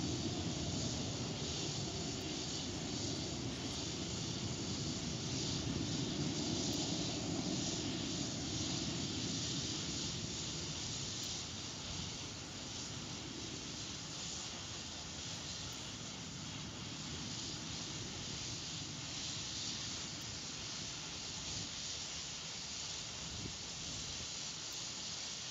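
Astra Rocket 3 in flight after launch, a steady, dense broadband roar with hiss that holds at a constant loudness throughout, continuous and unbroken without any voices.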